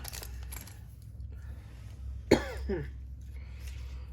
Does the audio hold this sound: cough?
yes